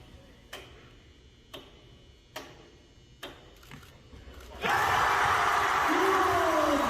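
Sharp taps at a basketball hoop ring out about once a second in a quiet arena, five or so in a row, then a crowd erupts into loud cheering.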